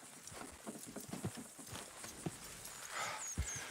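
Horse hooves clip-clop on the ground in the Red Dead Redemption 2 video game, a quiet uneven patter of several steps with faint background ambience.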